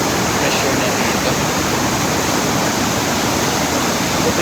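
A powerful waterfall of glacier meltwater in Norway roars in a steady, loud, unbroken broadband rush that fills the whole clip, close by and with no other sound standing out.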